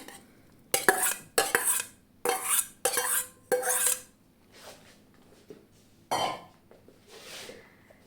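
Several loud scraping, clattering bursts as diced boiled potatoes are spooned into a bowl, then quieter shuffling and one more clatter.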